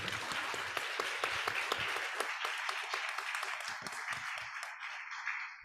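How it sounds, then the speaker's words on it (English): An audience applauds the organizers of an international conference of information commissioners, a dense, steady clapping that fills the room before fading slightly toward the end. "Can we please give them a round of applause?"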